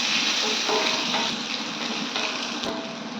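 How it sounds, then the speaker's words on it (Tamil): Onions sautéing in a pan as a vegetarian gravy with broccoli and peas begins, a steady, fairly loud broadband sizzle that holds evenly throughout, with faint clinks from stirring and no voices. "ஒரு 2 மினிட்ஸ் வந்து வெங்காயத்தை நல்லா வதக்கியாச்சு"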